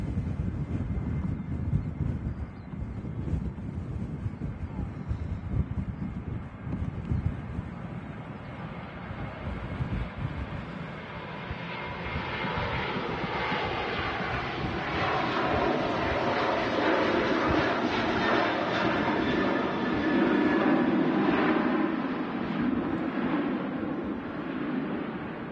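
An airliner on its takeoff roll, registration 28737, bound for Larnaca, Cyprus, at Manchester Airport, its engine roar building into a loud sustained rumble under heavy gusting wind buffeting the microphone.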